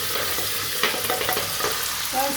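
Fenugreek seeds frying in hot oil while being stirred for an Andhra gongura dish, giving a steady close sizzle with light scraping and clinks throughout, no voices.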